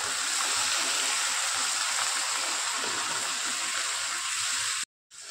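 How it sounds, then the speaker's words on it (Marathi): Water is poured from the coconut-masala grinding jar into a pan of vegetable curry: a steady, close gushing splash that runs about five seconds before a brief cut, with no talking. "ते पाणी घालते"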